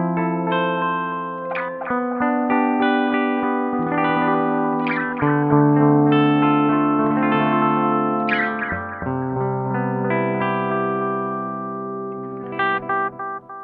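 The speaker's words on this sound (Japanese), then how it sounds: "ここはオリジナルの DM2 のサウンドをモデリングした音だそうです。" An electric guitar runs through a BOSS DD-20 Giga Delay set to its mode modeled on the analog DM-2, playing a melodic phrase whose notes trail off in warm, repeating echoes, clear and sustained with no talking.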